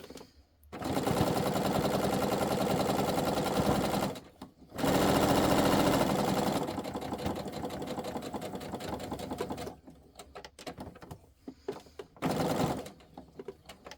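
Sewing machine stitching a felt cat toy, with long loud runs of rapid steady needle chatter, brief pauses between them, and shorter stop-start bursts near the end.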